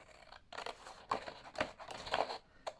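Scissors cutting out a printed paper pen holder template: a handful of quiet, close snips in an uneven rhythm, each a short crisp paper slice, with no talking.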